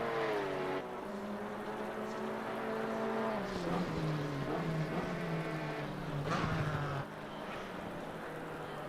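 A GT4 race car from Assetto Corsa Competizione sweeps past with a steady engine drone whose pitch falls away, then shifts and rises again, moderately loud and fairly close, ending abruptly.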